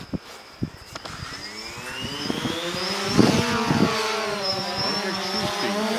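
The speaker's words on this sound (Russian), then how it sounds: "Взлетаем вручную. Опять активируем моторы." A Xiro quadcopter drone spins up its motors for a manual takeoff, a rising whine of tonal buzzing that builds from faint clicks into a steady loud hum, with a few thumps in between.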